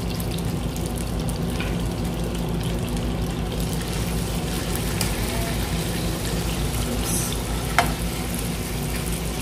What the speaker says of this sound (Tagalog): Iprito lang natin ito.